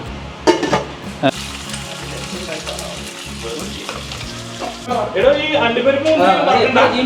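Onions, cashews and raisins fry in oil for biryani, a loud close sizzle with stirring and occasional clinks, while a person talks over it.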